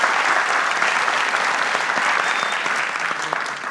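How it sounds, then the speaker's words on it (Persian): Dense, loud studio audience applause on an Afghan Family Feud-style game show, a continuous clapping roar from start to finish with no talking. "تشویق کنین مسی جان"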